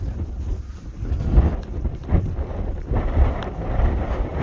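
Strong wind gusts buffet the microphone on the Ayrshire coast near a village harbour, with loud irregular rumbling surges rising and falling throughout, no voices.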